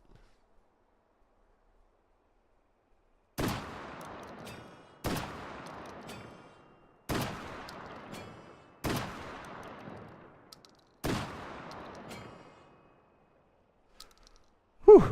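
Five evenly spaced heavy blasts from an M1014 shotgun firing buckshot at a metal plate in a VR video game, each loud boom decaying into a rough tail against near silence.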